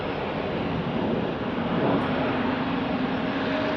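A jet airliner at Salt Lake City International Airport makes a steady, broad engine roar, moderately loud and unchanging throughout, with no talk over it.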